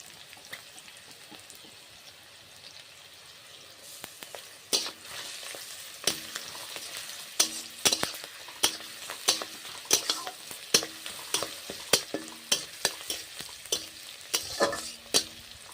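Chopped garlic frying with browned onions in a pan: a soft sizzle that grows louder, overlaid by a regular series of sharp spatula scrapes and clinks as the mix is stirred, close and with no talking.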